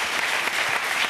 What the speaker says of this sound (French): On l'applaudit aussi pour ça.